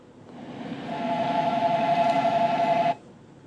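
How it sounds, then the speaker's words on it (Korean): Seoul subway train arriving at a station for Sangil-dong, a steady rumbling roar that swells and holds for a few seconds with a sustained tonal whine, then cuts off abruptly. "The train for 상일동 is now approaching."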